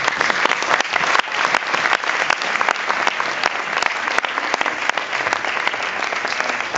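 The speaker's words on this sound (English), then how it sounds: "let's give Ben Rivers a round of applause" An audience at a film talk bursts into dense, continuous applause, many hands clapping loudly and evenly throughout with no break.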